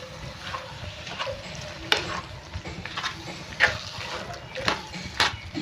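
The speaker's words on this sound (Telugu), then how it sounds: "ఇంకా అందులోనే కరివేపాకు వేసి ఒకసారి మిక్స్ చేసుకుంటాం." Chillies and curry leaves sizzle in hot oil for a mushroom curry while a spoon stirs the pan, scraping in repeated close strokes under a person's talk.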